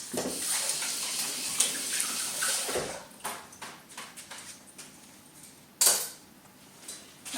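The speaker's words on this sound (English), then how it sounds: "Rinse my hands off." Hands rinsed under a running tap in a kitchen while making prickly pear marmalade, a steady rushing splash of water that cuts off, followed by a few faint knocks and a short burst of water.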